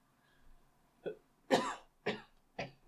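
Four short, sharp coughs in a quick series after a soft breathy sound, close and clear against near silence.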